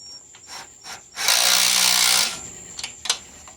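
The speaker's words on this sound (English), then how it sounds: "Get a wrench on it, and we'll zap it with the impact gun" An impact gun fires one solid burst of roughly a second, tightening a bolt on a Briggs and Stratton pressure washer during a carburetor and pump repair. Lighter clicks and handling noises come before and after it.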